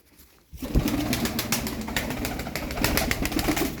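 Tumbler pigeons coo in a low, burbling murmur with a few wing flutters, close and steady after a quiet start.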